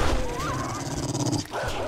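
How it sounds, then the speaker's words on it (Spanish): Zombie dog in the video game 7 Days to Die, growling and snarling close up for under two seconds, with a whining tonal yelp partway through. "¡No me puedes poner un perro ahora!"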